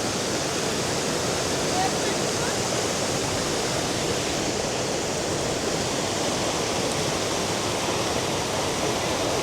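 Waterfall at Jaswant Garh near Tawang in Arunachal, close enough to feel the spray, roars as a loud, continuous broadband rush that never lets up, with no clear speech above it.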